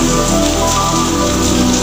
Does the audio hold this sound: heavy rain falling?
yes